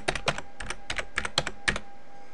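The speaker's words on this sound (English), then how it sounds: "and I'll type that in" Password typed on a computer keyboard, a close run of about a dozen crisp key clicks in quick uneven bursts, with no talk.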